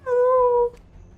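A summoned cat in the video game Black Desert gives a single short, clear meow, close and tonal, ending abruptly and followed by quiet.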